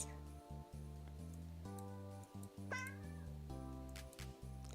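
Cat meowing nearby over a steady harmonic music bed, one clear rising meow standing out mid-clip with fainter cat cries around it; festive Christmas Eve setting.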